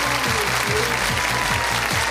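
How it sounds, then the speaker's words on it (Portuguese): Studio audience applause on the Brazilian TV game show Show do Milhão, a dense, even roar of clapping with a rhythmic musical beat thumping underneath throughout. "mais aplausos."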